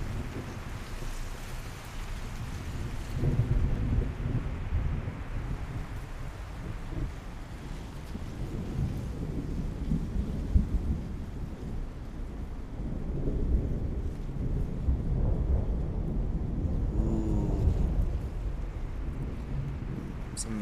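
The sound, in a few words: thunderstorm with rain in video game Tales of Iron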